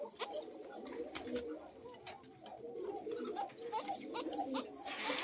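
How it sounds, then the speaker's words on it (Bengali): A thin-voiced coca pigeon coos softly in a repeated, rolling pattern, fairly faint and close, with light background noise. "এটা অনেক সুন্দর কবুতর"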